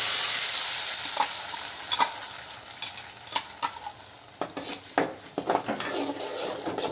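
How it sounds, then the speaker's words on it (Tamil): Ground radish batter is poured into a hot ghee-greased pan for radish halwa and stirred, giving a steady hiss with scattered spoon scrapes and clinks that grow busier toward the end; no one speaks. "இப்போ அரைச்சி வச்ச முள்ளங்கி அதில் ஊற்றணும்."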